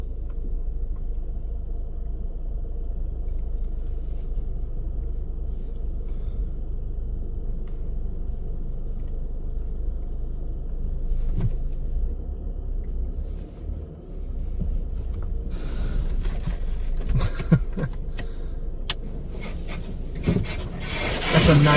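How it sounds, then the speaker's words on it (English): A Ryko Softgloss friction car wash dryer blower roars with a steady, broad rushing noise that swells and turns rougher in the last few seconds. "That's a nice sounding blower."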